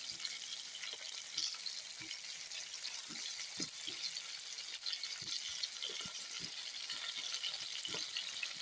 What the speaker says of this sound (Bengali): মাছ দিয়েছি, এপাশ ওপাশ ভেজে নিব।